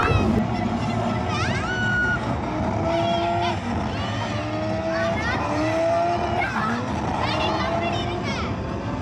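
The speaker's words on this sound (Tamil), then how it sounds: "கார் ரேஸ் விளையாண்டுட்டு இருந்தாங்க" Arcade racing-game engine whines rise and fall continuously with tire-squeal tones, layered with background chatter and music in a large gaming zone; steady and busy throughout.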